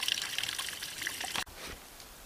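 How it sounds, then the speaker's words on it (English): Water is poured through a filter into a jug at a backcountry camp, a steady splashing gush that cuts off abruptly, followed by a softer trickle. "pour the water through that into whatever you're carrying the rest of the water in"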